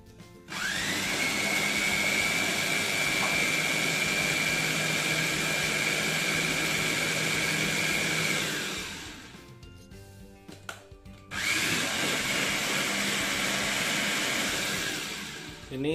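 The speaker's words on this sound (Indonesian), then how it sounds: "lama mixer atau blendernya sekitar 5 sampai 10 menit sampai ngembang ya" A loud electric mixer whipping ice cream mixture whirs continuously at high speed, stops for a few seconds of clattering, then starts again and runs steadily.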